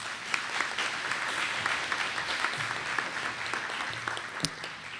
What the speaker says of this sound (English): So if you could please give a round of applause for Andy